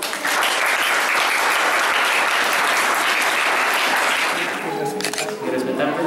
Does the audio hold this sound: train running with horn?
no